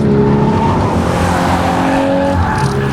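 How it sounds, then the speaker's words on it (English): A VW Golf R Mk8 hot hatchback pulls hard on a race track, its engine loud and steady with tyres squealing through a corner, constant and close for the whole stretch. "This is a great hot hatchback Trackday car"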